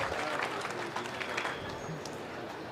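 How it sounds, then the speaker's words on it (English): At a swine show, an audience gives a steady round of applause, with dense, moderately distant clapping sustained for a few seconds. "Let's give these guys a nice round of applause."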